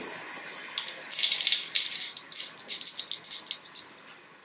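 Mustard seeds splutter in hot oil in a thick pan for a Pongal kuzhambu, a dense burst of crackling that swells early and then breaks into sporadic sharp pops, close and fairly loud.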